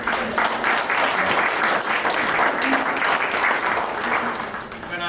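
Another round of applause rises for speaker Todd at a client care program, a thick, sustained crowd clapping that holds loud and even throughout, easing slightly only at the very close.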